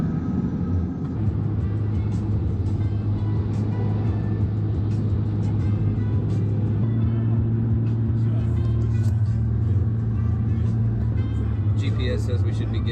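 Car driving along Interstate 35 through downtown Austin early in the morning, a steady loud engine and road drone heard from inside the cabin, with a voice speaking over it.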